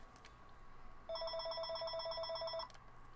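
A telephone rings in Sniper Elite 4, one continuous burst of rapid trilling electronic rings lasting about a second and a half, loud and clear over a quiet game background hum with no talking.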